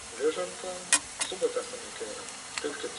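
Eggs frying in a pan for breakfast on a fishing trip, a steady soft sizzle with occasional sharp crackles and pops, fairly close and moderately quiet.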